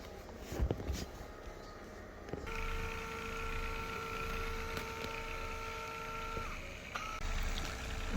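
A Homedics Shiatsu Pro Plus back massager with heat hums steadily for several seconds after a brief start, a close, even electric vibration with a few faint clicks and no talk.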